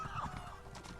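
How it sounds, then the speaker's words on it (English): A Gloomspore horse mount in the Elder Scrolls Online game clops its hooves and gives a short, soft whinny, a brief close burst of game sound with no talking over it. "That's a Gloomspore horse."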